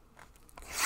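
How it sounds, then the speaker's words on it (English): Foil wrapper of a 2014 Upper Deck football card pack being torn open close up, a short, quiet crinkling rip that grows louder and ends in a bright tearing burst. "let's go ahead and get this thing cracked open"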